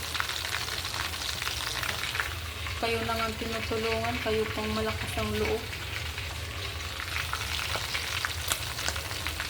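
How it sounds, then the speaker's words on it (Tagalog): Tilapia fish sizzles and crackles steadily in hot oil in a pan, with a person talking and a brief melodic tone sounding over it. "So, nakabili ako ng tilapia. So, piprituhin ko to ngayon."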